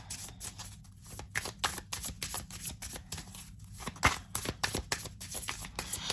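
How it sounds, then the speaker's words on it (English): Oracle cards being shuffled by hand, a steady run of soft riffling snaps and slides, close and quiet, with no talking. "But they shuffle very well."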